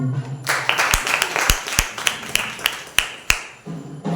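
Congregation clapping at a Sunday church service, a loose run of distinct claps spread across a few seconds with a murmur of voices underneath, fading out near the end.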